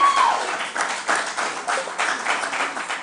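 Audience clapping at a junior quiz show, a steady broadband patter of applause with a few louder swells, fairly close and continuous with no talk over it.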